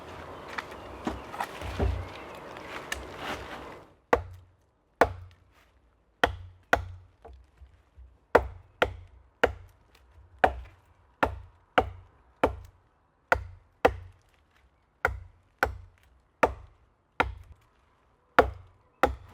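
Wood being chopped with a Le Taix craftsman knife while making a mallet: after a few seconds of rustling, about twenty sharp, loud strikes land in a steady rhythm, close up, with no talking.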